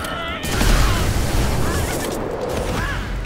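Bomb explosions in the magic combat game Magicka, a rapid cluster of loud booms and crackling bursts rumbling together for a few seconds, with spell whooshes over the top.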